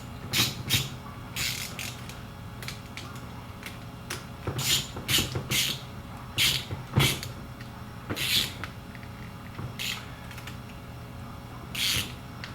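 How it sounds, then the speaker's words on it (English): Sharp clicks and creaks ring out from a clamp being tightened on a DIY gym cable pulley setup, about a dozen distinct ratcheting snaps in irregular bursts at close range, with no talking. "Go ahead and tighten the second one into place."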